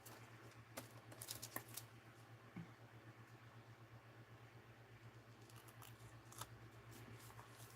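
Scissors snip through paper for a handmade card, faint crisp cuts in a few bursts over a steady low hum in a quiet room.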